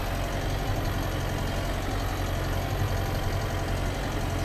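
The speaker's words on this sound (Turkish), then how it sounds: "Traktörümüz belli yerlerde patinaja düşüyor." A tractor pulls a spring-tine chisel cultivator through field soil, its half-buried tines dragging as the wheels slip in places. Its steady, loud engine drone runs unbroken and close throughout.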